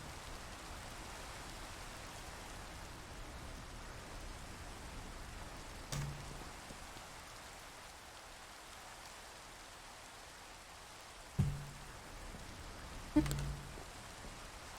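Steady soft rain in the Minecraft game world, a faint continuous hiss with a few brief louder knocks from gameplay.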